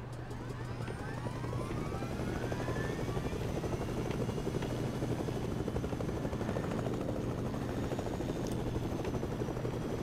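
A helicopter flying in the video game Fortnite, its rotor thumping as a steady, continuous drone at moderate distance, unbroken for the whole stretch.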